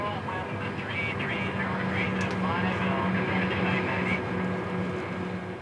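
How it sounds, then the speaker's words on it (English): A powerful airplane engine drones loud and continuous throughout, with a wavering whine riding on top that rises and falls. "Your airplane sounds like this."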